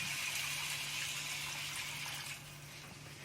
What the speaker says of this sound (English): we're now going to take that stock, 850 grams of chicken stock